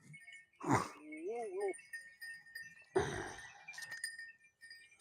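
Goats on a Punjab goat farm, with a single wavering bleat rising between close clattering knocks and a second burst of noise, while people talk nearby.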